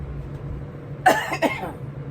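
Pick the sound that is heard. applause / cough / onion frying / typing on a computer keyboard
cough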